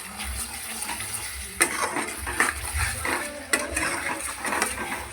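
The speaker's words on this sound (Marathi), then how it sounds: "चांगलं तेल सुटेपर्यंत परतून घ्यायचंय." A mixture is sautéed in oil in a pan and stirred until the oil separates, giving a continuous sizzle broken by scraping stirring strokes and occasional louder clatters, with no one speaking.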